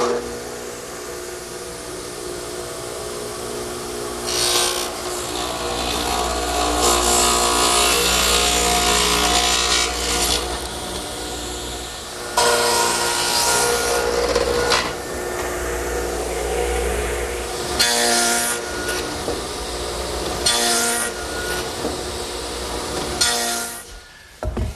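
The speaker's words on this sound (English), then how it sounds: "I've set up a stacked dado head cutter in my radial arm at about 5/8 of an inch width, and I'll just take my time and make all the cuts" Radial arm saw fitted with a stacked dado head set about 5/8 inch wide cutting wood for a picnic table or saw horse, heard as repeated loud broadband cutting bursts over a steady motor hum, close up with no talk.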